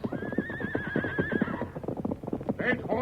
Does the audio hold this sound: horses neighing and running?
yes